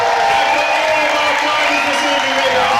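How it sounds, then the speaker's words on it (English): Crowd at the Big Flash climbing Grand Final giving a sustained ovation, a steady wash of cheering and applause filling the whole stretch. "It's nice great ovation from the crowd."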